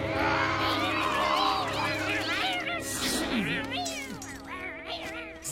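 A cat meows in several wavering, squeaky cries mixed with busy cartoon sound effects and voices, loud and close throughout.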